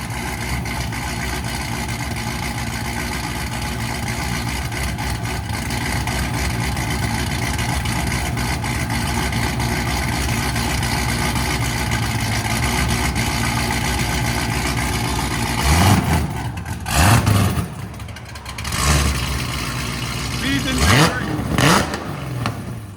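A 1,900 hp Cadillac CTS-V with headers and a Corsa Xtreme exhaust holds a rough, loud idle, then blips its throttle in a few sharp revs near the end; voices talk over it.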